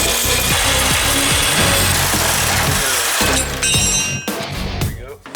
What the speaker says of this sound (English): We're going to make some channel with the square tubing. We're going to cut it here after we cut it here.